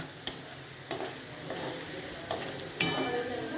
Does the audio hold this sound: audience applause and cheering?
no